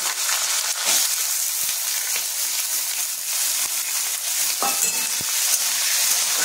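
Chopped potatoes tumble into a hot frying pan for chholar dal, giving a steady sizzle and frying hiss with a few stirring scrapes and clinks, close and continuous throughout.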